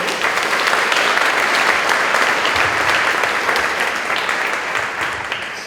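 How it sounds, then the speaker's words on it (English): Audience at a community forum on teen drug use applauds the presenters, a dense, steady wash of clapping from many hands that holds loud throughout and eases slightly toward the end, with no talk over it. "I really would like to just ask for some acknowledgement and applause for our presenters and our resource providers that are here tonight."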